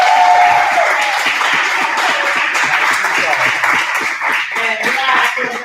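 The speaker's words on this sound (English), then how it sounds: "Giant round of applause for Miss Zoe." Applause at a martial arts belt presentation for level 3 and black belt testing, a room of people clapping steadily and fairly close for several seconds, with brief cheering voices mixed in.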